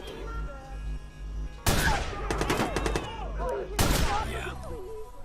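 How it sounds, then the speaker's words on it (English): Loud sniper rifle shots in the video game Watch Dogs, two sharp blasts a couple of seconds apart, each followed by ringing echoes and game effects. "And 2 sniper bullets does it."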